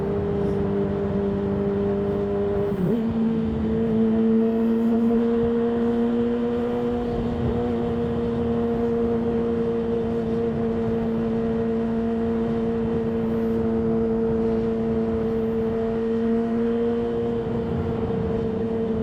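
A Yamaha R6 motorbike engine runs steadily with a sustained tonal hum, shifting pitch slightly once early on before settling into an even, continuous note, heard close and alone.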